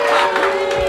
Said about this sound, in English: The kids are booing.